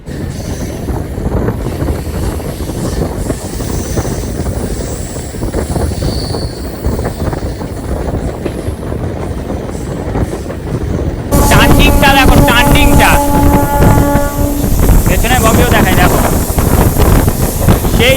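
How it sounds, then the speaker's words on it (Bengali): A MEMU commuter train rolls out of Kharagpur Junction station with a steady rumble and heavy wind buffeting the microphone, the clatter growing louder and harsher partway through. "ছেড়ে দিল আমাদের ট্রেনটি খড়গপুর জংশন রেলওয়ে স্টেশন থেকে"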